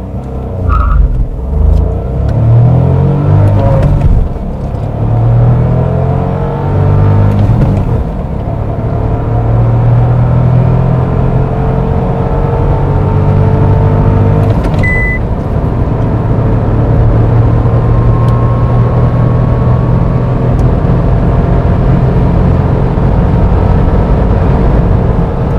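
Dacia Jogger 1.0 ECO-G LPG with a six-speed manual accelerates hard through the gears, engine droning loud and close from inside the cabin with rising pitch sweeps and short pauses at each shift.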